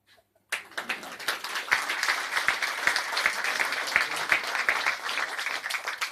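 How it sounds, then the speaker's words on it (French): Audience applause at the inauguration of a political office, a room full of people clapping steadily after a quiet start, continuous and fairly distant with sharp individual claps standing out. "pour laquelle vous pouvez déjà vous applaudir ce soir"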